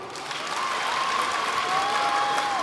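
A cosplay show audience at Mangagen 2026 applauds on request, a dense, steady wash of many clapping hands, loud and sustained from start to finish.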